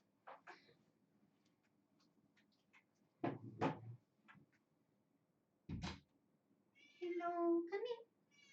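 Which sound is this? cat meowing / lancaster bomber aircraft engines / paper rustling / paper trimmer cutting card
cat meowing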